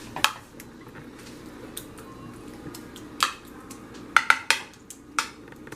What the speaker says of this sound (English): Take the back of the spoon and spread around.